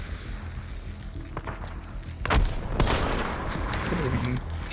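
Bursts of rapid gunfire and sharp shots crackle through a noisy, busy mix in the video game Hunt during a tournament round, with heavier volleys in the middle.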